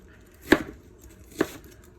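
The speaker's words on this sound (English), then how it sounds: "I have here just a little bit of leek" A knife slices through leek on a cutting board in two sharp, separate chops about a second apart, close and distinct over a quiet background.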